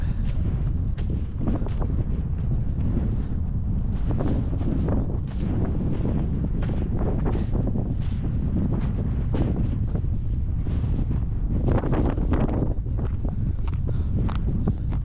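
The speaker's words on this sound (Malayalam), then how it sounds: "നല്ല കാറ്റുണ്ട്." Strong wind in Kiruna, Swedish Lapland, buffets the microphone in continuous loud rumbling gusts, with no voices present.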